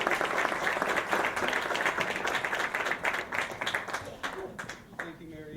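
Warm applause from a gala audience welcoming a speaker, sustained clapping fading out toward the end, with some voices mixed in.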